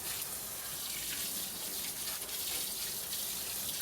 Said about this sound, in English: A good watering,